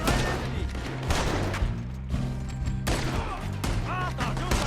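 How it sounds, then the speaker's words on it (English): Heavy gunfire in Red Dead Redemption 2, a dense volley of loud, overlapping shots with brief pauses between bursts, layered with other game sounds and a shouting voice. "They're shooting right at me!"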